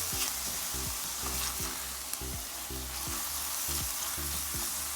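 Garlic fries in a little oil in a pan, giving a steady close hiss and sizzle with a rhythmic low clatter of stirring underneath. No one speaks.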